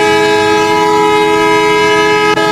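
A train near the Padma Bridge sounds a loud, sustained horn blast that holds a steady multi-tone chord for over two seconds, close and dominant over faint rumble.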